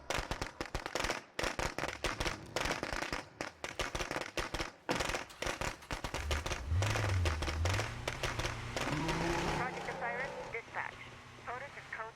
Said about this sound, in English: since I have these firecrackers, we'll just throw them that way